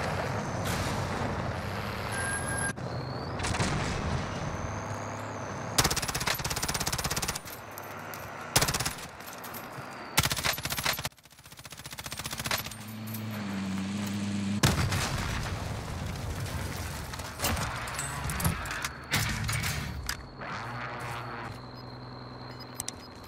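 Bursts of M4A1 9mm SMG fire in Warzone, with rapid gunfire volleys broken by short pauses across the clip, loud and close, with no talk over them.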